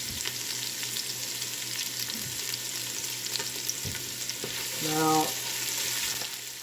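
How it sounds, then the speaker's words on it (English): Food sautés in a pan for a classic Italian Sunday dinner sauce, sending up a steady, close sizzle with a few soft stirring knocks, and a voice speaks briefly over it. "We'll let that saute for a second."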